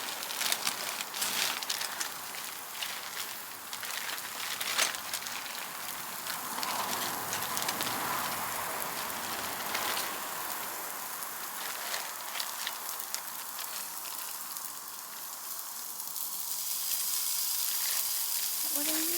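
Food sizzles and crackles steadily in a hot pan at a beach outing, a dense, continuous frying hiss that keeps going throughout.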